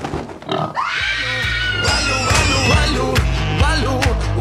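A pig oinks and grunts up close in a repeated run of loud snorts, heard over a busy, dense background of other sound with music-like tones.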